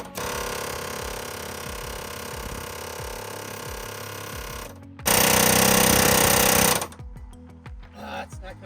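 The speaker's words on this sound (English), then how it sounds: "I got this 1/2 inch attachment on my air hammer" An air hammer fitted with a 1/2 inch attachment chatters in a rapid, loud, continuous burst against a Ford E-350/E-250 Econoline van body mount, stops, fires a harsher blast, then falls silent with some clanks.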